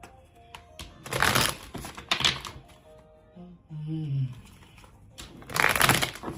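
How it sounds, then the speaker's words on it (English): Tarot cards get shuffled in quick bursts of riffling, flapping clatter, with pauses between and a brief voiced sound in the middle. "Let me give it a quick little shuffle again."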